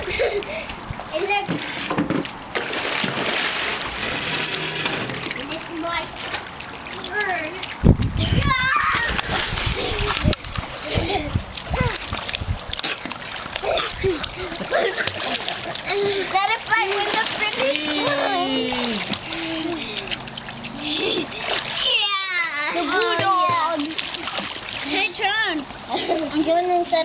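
A child splashes in a backyard swimming pool, with continuous close water splashing and sloshing under frequent chatter from children and adults throughout.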